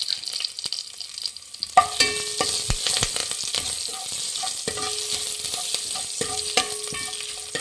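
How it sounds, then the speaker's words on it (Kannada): Crushed black pepper frying in oil with curry leaves for sambar, a bright continuous sizzle with crackling pops and repeated clinks of a spoon against the pan. "ಒಂದು 2 ನಿಮಿಷ ಮೆಣಸು ಹಾಕಿ ಫ್ರೈ ಮಾಡಿ ಎಣ್ಣೆಯಲ್ಲಿ"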